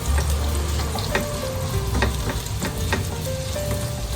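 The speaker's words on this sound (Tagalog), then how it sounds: "ilagay natin yung kamote at oats sa kawali" Mashed sweet potato and oats frying in a pan for kamote pancakes, heard as a close, steady sizzle with a few soft taps from stirring or pressing.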